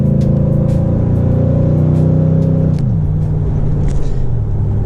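A Chevrolet Silverado pickup with a 3.5-inch Rough Country lift drives along the road with a loud, steady engine drone. The pitch drops partway through as it shifts or eases off, and road rumble continues underneath.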